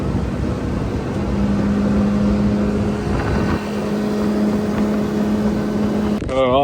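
A small tinny aluminium boat's outboard motor runs under throttle, a steady loud droning hum with water and wind noise and a sharp squeal at the very end.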